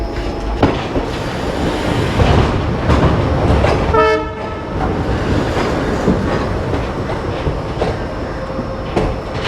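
An ICF coach on the Shramjeevi Express rumbles and clatters loudly over the rails in a steady rhythm, with a brief train horn blast partway through.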